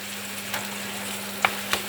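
Onions sautéing in a pan give a soft, even sizzle under a steady low hum, with two or three short clicks of a utensil against the pan.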